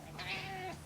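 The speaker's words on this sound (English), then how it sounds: "That was my cat." A pet cat gives a single short, close meow, clear and fairly quiet, standing alone without talk over it.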